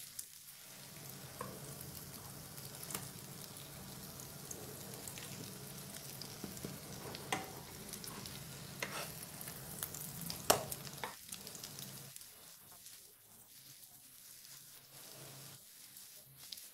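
Meatballs fry in a pan with a steady, dense sizzle and crackle close by, broken by occasional pops and stirring clatter, thinning out toward the end.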